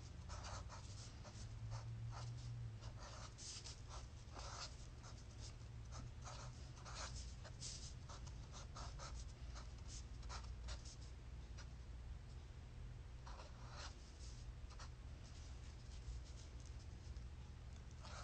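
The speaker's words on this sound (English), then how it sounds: "you can write something on there" A pen scratching across a writing surface in a child's room during a puppet-show playdate, steady quiet strokes running through the whole stretch alone, with no voices.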